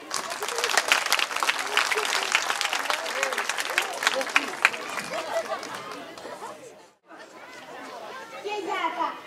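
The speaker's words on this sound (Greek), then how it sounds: "Και γι' αυτό το λόγο αξίζουν το θερμότερό σας χειροκρότημα" Audience clapping at a Greek village festival in Skepasto, a dense burst of applause mixed with children's chatter and crowd voices, dipping briefly near the end before the crowd noise picks back up.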